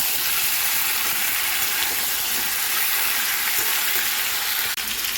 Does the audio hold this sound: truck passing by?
no